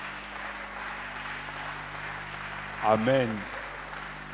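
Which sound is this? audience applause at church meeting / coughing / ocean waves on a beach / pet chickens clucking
audience applause at church meeting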